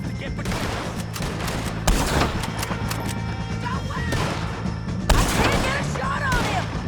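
A Red Dead Redemption 2 shootout with the O'Driscolls crackles with repeated gunshots, two sharp louder blasts standing out amid scattered rapid fire and clattering impacts, with a voice calling out in the fray.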